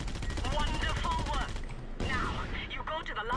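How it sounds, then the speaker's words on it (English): Gunfire rattles in the open-world action game Just Cause 2, with dense bursts of shots layered over game noise and chatter-like sounds, steady and loud throughout. "Someone's shooting me somewhere."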